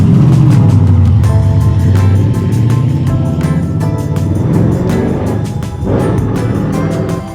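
A mail truck drives past on a road on the Black Isle in Scotland, a steady, fairly loud engine and tyre rumble that holds throughout with slight swells, no talking.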